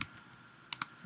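Computer keyboard keys pressed in a few sparse, quiet clicks, close by, with a pair of quick taps near the end.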